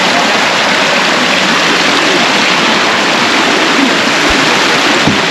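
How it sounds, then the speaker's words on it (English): Water cascading off rocky cliffs in the African wild, a loud, dense, unbroken roar of falling water heard close up, steady from start to finish with no voices. "and the water is bouncing out the cliffs"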